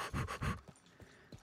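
A dog in Red Dead Redemption II pants in two heavy, close breaths, followed by softer, quicker panting puffs.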